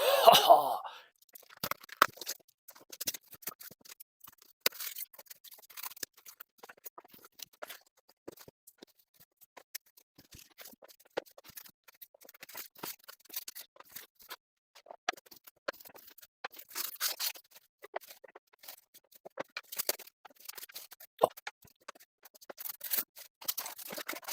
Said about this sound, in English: Let's go ahead and unbox this real quick.